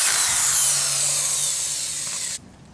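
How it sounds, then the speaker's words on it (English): A power drill drives screws while a trampoline is being assembled, one sustained high whirring burst with a grinding edge that winds down and stops abruptly near the end, loud and close with no talking. "Or if you want it to go more quickly, use the power drill."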